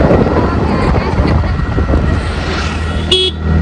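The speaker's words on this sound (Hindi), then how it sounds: "यहाँ की हवा चल रही है" Icy wind blows on a road trip toward Kedarnath, buffeting the microphone with loud, continuous roaring gusts, while a short horn-like toot sounds near the end.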